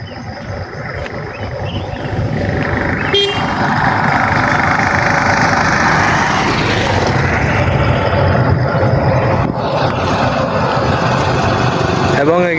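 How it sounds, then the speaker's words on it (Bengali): Busy street traffic rolls past, with a loud, constant drone of engines and a couple of brief horn-like tones rising above the rumble. "এখানে অনেক গাড়ি চলাচল করে, এরপর এখানে একটু শব্দ হয়"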